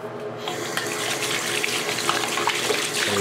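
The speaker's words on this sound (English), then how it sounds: "we're going to make it right out of the faucet" Water runs steadily from a faucet, a loud, close and continuous splashing hiss that starts abruptly and carries on unbroken, with no talking.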